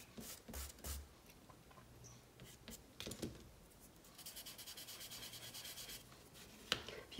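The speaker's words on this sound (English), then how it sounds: "clean that up a little with a kneaded eraser" Kneaded eraser rubbed along the edge of a graphite pencil drawing of a shaded sphere, giving soft, quiet scrubbing and scratchy strokes in short bursts, with a longer steady rubbing stretch near the end.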